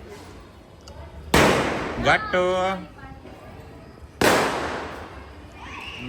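Two sharp firecracker bangs a few seconds apart, each trailing off into a crackle, with a nearby voice speaking between them.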